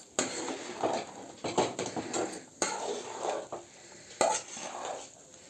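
Almonds being stirred into hot sugar syrup in a pan off the flame to make chikki, a steady scraping of spoon against metal with sticky crackling and a few sharp clinks, close and alone.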